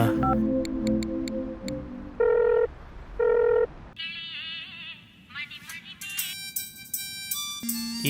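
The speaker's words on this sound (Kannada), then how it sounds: "ಏನು ಕಾಲ್ ಕಟ್ ಮಾಡಿದ್ರು ಫೋನ್ ಮಾಡ್ತಾನೆ ಇದ್ದಾನಲ್ಲ" A mobile phone ringtone from a repeated incoming call sounds as a melodic electronic tune, with bright tonal bursts that restart several times and change pattern partway through, loud and close with no talk over it.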